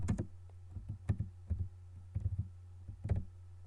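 Keys tapped on a computer keyboard while mapping software is in use, several short bursts of clicks spread over a few seconds over a steady low hum, close and fairly quiet.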